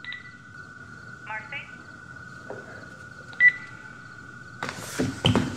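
Telephone dialing tones play over a steady electronic tone, with several short keypad beeps spaced apart, followed near the end by a louder burst of noisy sound.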